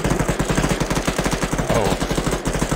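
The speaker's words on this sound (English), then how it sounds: "Artillery!" Rapid rhythmic bursts of artillery and automatic weapons fire from the military shooter game Arma 3, loud and continuous throughout with no talk.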